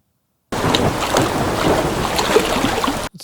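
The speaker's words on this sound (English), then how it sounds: "the splashes are heavy and short" Heavy, short water splash sound effect slowed to 70% speed, producing a deep, stretched wash of turbulent noise that swells and churns for about two and a half seconds before cutting off.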